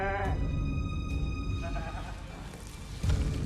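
A sheep bleats in a TV episode soundtrack, a wavering cry at the start, then fainter bleats beneath tense music and a low rumble.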